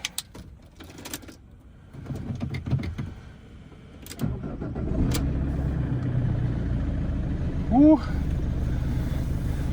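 A car engine cranks and catches after a dead battery is swapped out, then settles into a steady low idle, preceded by clicks and handling noises with brief talk nearby.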